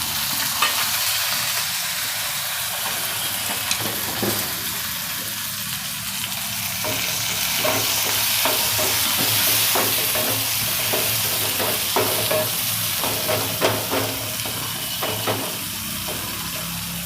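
Tomatoes and garlic frying in a pan make a steady, close sizzle with intermittent stirring clicks and scrapes throughout, and no voices.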